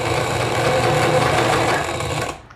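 A sewing machine stitches the lining of a tailored circle skirt, giving a close, continuous rapid buzzing hum that runs for about two seconds and then stops.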